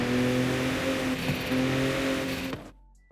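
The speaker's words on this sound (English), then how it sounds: "we're gonna go to a stock intake, and you might be able to hear a different air noise" A racing car with a stock intake idles and hums in Forza Horizon 5, a steady engine drone with a brief revving blip, then cuts off abruptly near the end.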